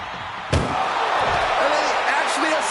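A single sharp slam of a door being forced shut in WWE 2K26 at the back of an ambulance, followed by continuous commentary talking throughout.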